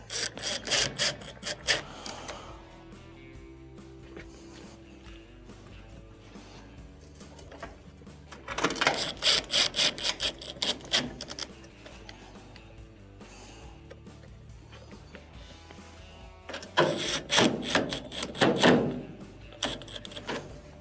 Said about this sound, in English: let's start to screw it in on the top first